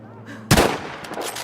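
A single sharp rifle shot cracks out in Battlefield 5, loud and close, followed by a short fading echo with faint background noise.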